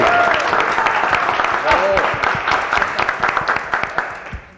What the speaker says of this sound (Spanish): un aplauso fuerte para Ana Luisa Méndez.